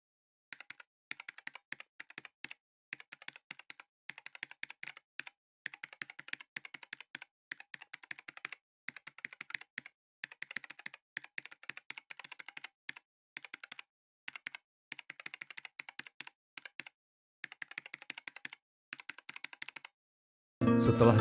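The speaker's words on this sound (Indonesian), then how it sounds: "Setelah dia selesai mengetik di laptopnya" Fingers typing on a laptop keyboard, close and crisp, in quick bursts of key taps separated by short pauses, running steadily for about twenty seconds with nothing else in the background.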